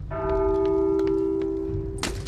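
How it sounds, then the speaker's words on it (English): A loud bell tolls in The Walking Dead Saints & Sinners, a single sustained, ringing tone that hangs steadily for about two seconds before a sharp thud cuts in. "The bell's going off right now."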